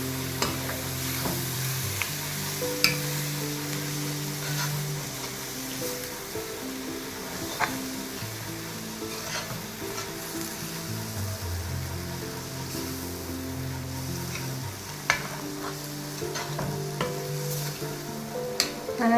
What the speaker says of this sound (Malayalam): അത് നന്നായിട്ട് ഇളക്കുക.